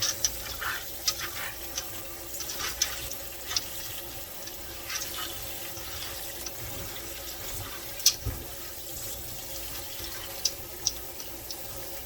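Water runs steadily from a tap into a sink while beans are rinsed for a long stretch, with occasional splashes and clinks against it; nobody speaks.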